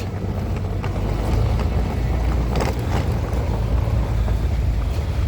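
Continuous low engine rumble of a passing boat with wind buffeting and water noise, steady and fairly loud throughout.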